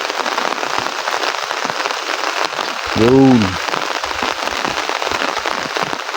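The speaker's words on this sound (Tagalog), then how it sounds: "Kaya walang tigil ang ulan." Heavy rain pounding steadily on surfaces outdoors, a dense loud hiss throughout, with a brief tonal voice or horn-like sound rising over it midway and a short spoken word.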